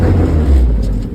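Turbocharged SRT4 Mitsubishi Eclipse engine with a smoking turbo revs loudly and close by in one short, sustained burst of deep rumble.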